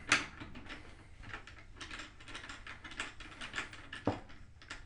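Drum key turning snare drum tension rods to loosen them, close and quiet, giving a run of small ratcheting clicks and metallic creaks with a couple of sharper ticks, with no talking.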